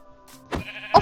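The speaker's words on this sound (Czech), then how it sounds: "Ovce." Minecraft sheep give short, fairly close bleats, with one quiet call followed by two louder ones in the final half second, set against faint in-game ambience.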